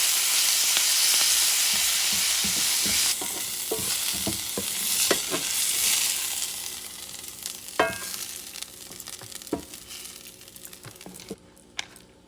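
Chunks of bison or beef fry with cilantro in a pan, a steady loud sizzle broken by scraping stir strokes and clatters that grow sparser toward the end, with no voices.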